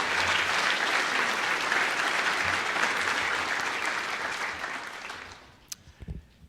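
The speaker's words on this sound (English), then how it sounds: "let's give everyone here who presented a round of applause" An audience at a 2025 senior award ceremony claps in loud, sustained applause that gradually fades out, ending with a few scattered final claps.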